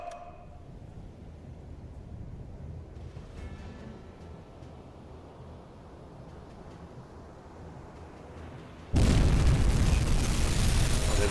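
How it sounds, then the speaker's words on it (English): Torpedo strike on a ship in a U-boat submarine video game: a low background hum for several seconds, then a sudden loud, broad explosion that roars on to the end. "we've got one good hit, and it looks like we've blown the front end off the ship"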